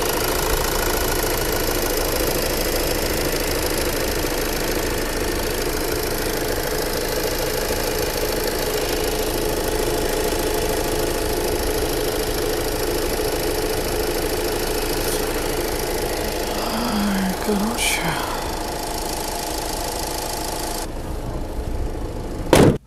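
A used Renault Laguna or Skoda Octavia A5 engine idles steadily with a faint knocking and vibration throughout, heard from close by, with a brief clatter near the end and no talking.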